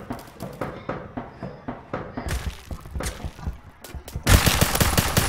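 Repeated gunshots in a shooter video game ring out in a quick, irregular rhythm, close and loud, building into a dense burst of fire near the end.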